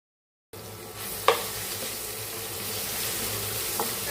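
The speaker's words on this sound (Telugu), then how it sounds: "ఈ పుదీనా పేస్ట్ అంతా దీంట్లో వేయించుకోవాలి నా పచ్చి స్మెల్ పోయేంత వరకు కూడా" Mint paste for pudina rice fries in a pan with a steady, close hiss. It begins after a moment of silence, with one brief scrape of a spoon near the start and a softer one near the end.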